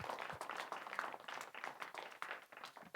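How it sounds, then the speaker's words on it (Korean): A church congregation applauds during a sermon, giving a soft, distant round of scattered handclaps that continues for a few seconds with almost no talking. "우리 아리마대 요셉에게 박수 한번 합시다."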